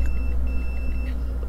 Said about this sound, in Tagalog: may marinig po kayong buzzer